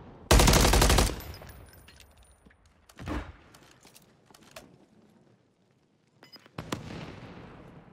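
Gunfire in a fast-paced first-person shooter match: a loud rapid automatic burst up front, then a single sharp shot and later another short crackling volley, with quiet gaps in between.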